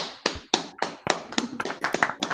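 Scattered applause for Patricia at an online meeting, a few sharp, uneven claps close to the microphone, sparse and without voices.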